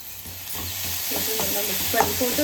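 A spoon stirs jaggery filling with cardamom powder in a pan for kozhukattai, with close scraping strokes and a light sizzle in an uneven rhythm.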